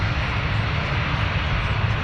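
An airliner at Toronto Pearson airport roars with a dense, steady low engine rumble lasting the whole moment, loud and close.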